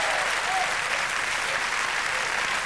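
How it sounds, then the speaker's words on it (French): A concert audience at a French televised junior song contest selection applauds steadily, a dense even wash of clapping from the crowd throughout. "Je vous demande de les applaudir"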